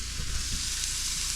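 Sausage frying on a pan for breakfast at an off-grid cabin, giving a close, steady hiss of sizzling fat with no voices over it.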